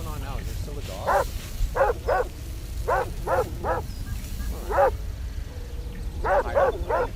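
A household dog barks in short bursts of two or three, fairly close, with pauses between groups and a low steady background hum underneath.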